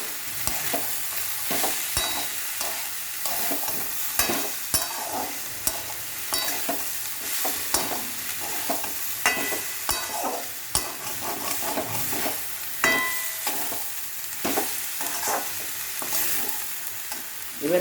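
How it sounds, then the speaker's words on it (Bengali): Potatoes stirred and fried in a pan while cooking a Bengali thor (banana stem) ghonto, with a steady sizzle under repeated sharp scrapes and knocks of the spoon against the pan. "আলুটা মাখিয়ে নিই।"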